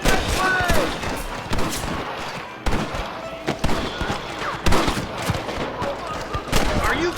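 Rapid bursts of gunfire crack through a Red Dead Redemption shootout with rustlers, loud close shots mixed with scattered volleys and sharp reports repeating across the whole stretch.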